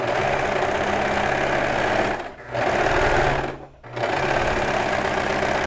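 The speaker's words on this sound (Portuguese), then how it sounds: "eu vou iniciar minha costura fechando o gancho. Então, eu vou costurar aqui." Sewing machine stitching the crotch seam of Tactel shorts, a steady close-up mechanical whirring that runs continuously with two brief slowdowns.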